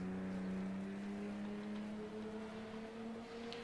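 A BMW M1 race car in Raceroom runs at full throttle, a steady droning engine whose pitch climbs slowly as it pulls. It is loud and continuous, with no gaps and no talk.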